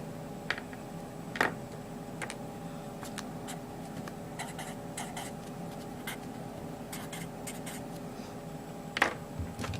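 Pen writing out a sine calculation on paper or a board, faint scratchy strokes with occasional sharp taps, close and quiet over a low steady hum, no voices.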